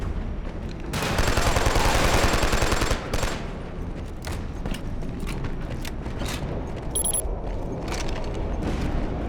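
Default gun firing in Killzone 2: a long, loud burst of rapid automatic fire, then scattered single and short bursts of shots with mechanical clanks and creaks, with no talk.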